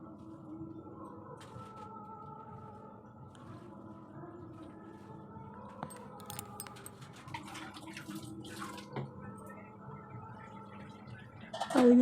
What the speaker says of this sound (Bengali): আর এইদিকে দেখো আমি বাসনগুলো ধুয়ে নিচ্ছি